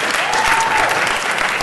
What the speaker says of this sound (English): That alone deserves a round of applause